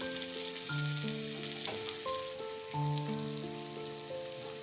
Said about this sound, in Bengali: এখানে আলু আর মিষ্টি কুমড়োটা ভাজা হয়ে গেছে